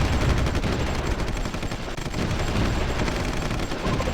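Sustained artillery bombardment in the Supreme Ruler Ultimate strategy game, a dense, loud barrage of overlapping gunfire and booms rolling continuously without pause.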